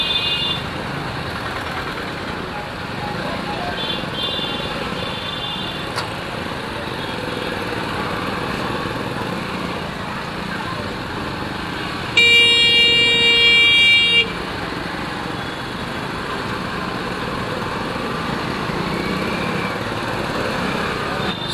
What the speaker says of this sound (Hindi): सुबह सुबह के टाइम में ऐसा ट्रैफिक होना बहुत ही कष्टदायक होता है